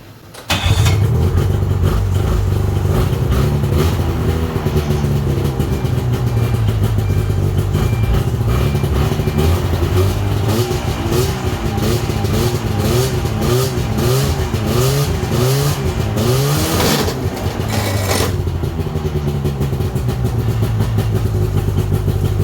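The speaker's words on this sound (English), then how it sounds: "fire it up, and put it in reverse, see if I can't peel it right off of there" A Yamaha Venture snowmobile engine runs loud and steady in reverse in a smoky garage, its pitch wavering as the throttle rises and falls, then easing near the end; no one talks.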